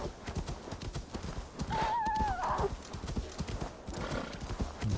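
Horse hooves clip-clop steadily in the snowy Viking-era world of Assassin's Creed Valhalla, with a horse's neigh rising midway over the rhythmic footfalls.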